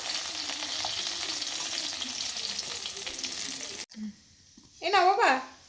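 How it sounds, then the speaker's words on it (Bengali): Fish frying in a pan at home sizzles loudly and steadily up close for several seconds, then cuts off abruptly, and a voice follows. "এই যে মাছ ভাজছি"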